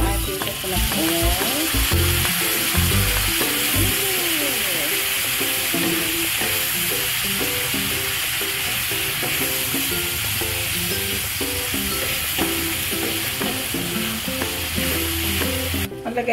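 Loud, continuous sizzling of coconut oil frying in a kitchen pan, with clinks and scrapes of stirring over the crackle throughout.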